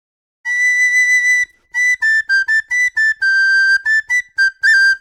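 Recorder playing an Irish polka tune, bright whistle-like notes in quick articulated bursts with short gaps, close and loud, no voices.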